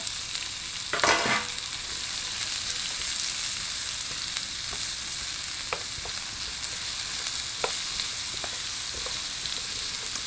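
Rice stir-frying in a pan with black bean sauce gives a steady, close sizzle throughout, with an early burst of clattering as the food is tossed and a few light scrapes of the utensil against the pan.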